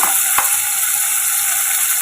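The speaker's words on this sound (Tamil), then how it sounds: "சேர்த்துட்டு காய்க்கு தேவையான உப்பு போட்டு வதக்கிக்கோங்க" Vegetables with salt sautéing in a pan for a home-cooked lunch dish, giving a steady close sizzle and hiss throughout with one brief scrape or stir, and no talking.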